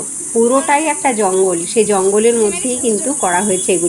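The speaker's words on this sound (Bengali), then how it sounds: "ঝিঝি পোকার ডাক শুনতে পাচ্ছ?" Crickets in a forested eco village give a steady, high continuous drone throughout, running beneath nearby continuous talk.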